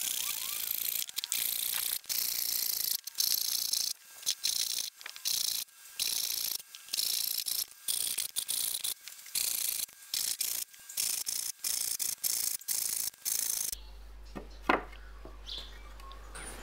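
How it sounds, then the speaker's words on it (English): A hand saw cutting a timber board straight down the middle, a loud close rasping rhythm of regular back-and-forth strokes for about fourteen seconds before it stops and a quieter room follows. "You need to saw it straight down the middle."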